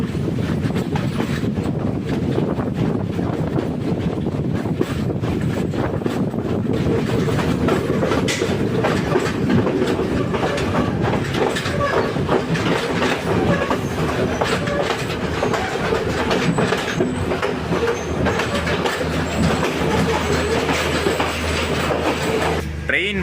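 The Colombo-Trincomalee night mail express runs along the rails in Sri Lanka, with a continuous loud rumble and rattling clickety-clack heard from inside the carriage, mixed with wind noise and a faint voice now and then.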